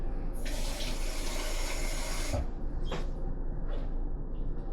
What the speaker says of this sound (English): using the water to rinse out the cup